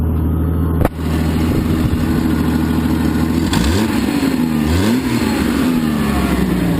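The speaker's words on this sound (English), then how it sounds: "but the muffler itself is also leaking." Engine of a Jeep Grand Cherokee with a leaking exhaust muffler and header runs steadily up close, a loud rumbling drone that rises and falls through a couple of revs mid-clip with no talking.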